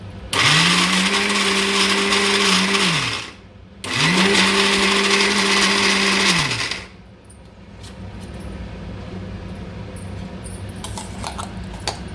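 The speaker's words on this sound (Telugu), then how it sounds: "తర్వాత వంకాయ ముక్కలు గోలిచ్చిన వేసి మిక్సీ వేసుకోవాలి" A mixer grinder whirs loudly blending brinjal chutney in two bursts of about three seconds each, separated by a short pause, then stops, leaving quieter background noise.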